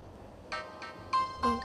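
A phone rings in a Vietnamese TV drama, four short bright electronic chimes rising in loudness, each separated by a brief pause, in a quiet room.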